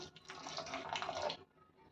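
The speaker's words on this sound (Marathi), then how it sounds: "मग मी अजून थोडंसं पाणी घालते" Water pours briefly into a cooking pan in a splashing stream, lasting under two seconds before stopping.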